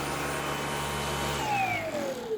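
Dyson cordless vacuum cleaner running steadily, a fairly quiet, even airy whir with a high whine, and near the end a tone glides downward; nobody speaks.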